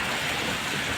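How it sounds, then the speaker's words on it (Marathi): Natural rain falls gently over Talasari and Dahanu, a dense, even hiss that stays loud and constant for the full second with no voices. "नैसर्गिक पाऊस या ठिकाणी हळूहळू पडत आहे"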